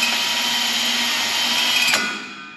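Power drill with a hole saw pilot bit grinding into 1/8 inch steel plate, a loud, steady whine close by for about two seconds before spinning down and stopping.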